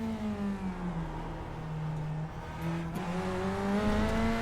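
A race car in the iRacing Le Mans 24-hour endurance race drones past with a steady engine note that climbs in pitch toward the end, loud and continuous with no talk.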